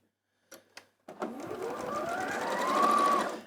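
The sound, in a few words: sewing machine sewing a quarter-inch seam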